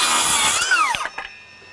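Milwaukee M18 FUEL 6-1/2 inch cordless circular saw at about 6,000 RPM, a loud close whine as it bites through wood, then the motor winding down after the cut.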